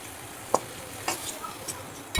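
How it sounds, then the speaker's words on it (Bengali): Potatoes fry in oil in a karai and are stirred and lifted out, giving a few brief scraping stirs and crackles over a faint sizzle, quiet and close with no talking. "আলুগুলোকে এভাবে ঢেকে ঢেকে বারবার 2-3 বার ঢাকনা দিয়ে দিয়ে ভাজবো"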